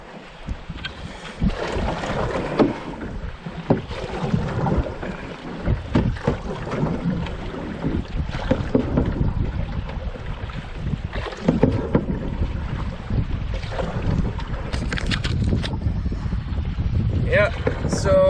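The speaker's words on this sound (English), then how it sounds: "Gotta do some paddling here" A canoe is paddled across a big, choppy back-country lake in Ontario against a headwind. Gusty wind buffets the microphone over splashing water and paddle strokes throughout.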